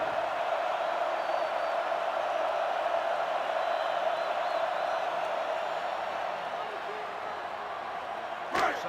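A sellout football stadium crowd at a college football game roars in a steady, dense wash of noise that holds from start to finish without a break.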